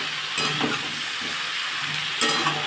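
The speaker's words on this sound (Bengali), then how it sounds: "এর মধ্যে শসা, আলু, টমেটো সব একসাথে দিয়ে দিয়েছি।" Cucumber, potato and tomato frying together in a pan for a fish curry, a steady close sizzle with a couple of sharper spatula scrapes and clinks, no voices.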